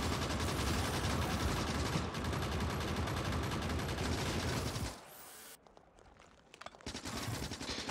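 Sustained rapid automatic gunfire from the factory-building game Warptorio rattles densely for about five seconds, then cuts off abruptly, leaving a few quieter scattered sounds afterward.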